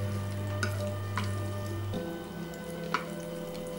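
Boiled noodles tossed with a quarter cup of oil for a Szechuan noodle salad, giving a soft, steady sizzle with a few light stirring scrapes, close and fairly quiet, with no talk.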